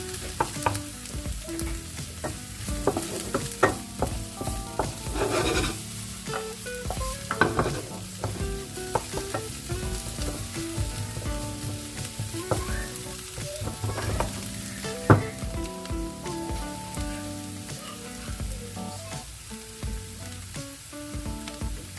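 Garlic and onion sizzle steadily in a frying pan while being stirred, with scraping and clinking of a utensil against the pan over a continuous crackle, close and moderately quiet, no voices.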